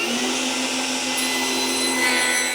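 A table-mounted power saw cuts through Royal PVC board in a steady, loud, close whine that holds for a couple of seconds before stopping abruptly.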